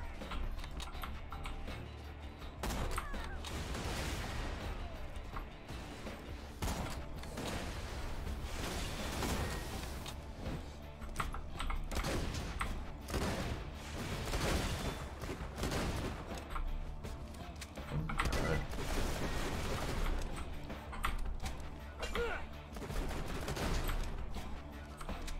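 Video game gunfire crackles as a steady run of rapid, fairly faint shots that keeps going throughout, with denser bursts at intervals.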